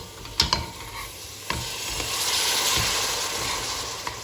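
Hot syrup poured in small amounts into hot toasted flour for Turkish wet flour halva, giving a steady broadband sizzle and hiss with a few sharp clicks of stirring near the start, close and moderately loud.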